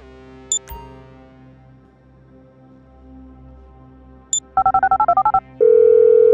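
Telephone dialed in the video game GTA V: a couple of short clicks, then a quick run of about eight electronic keypad tones, followed by a steady ringing tone that starts and continues to the end.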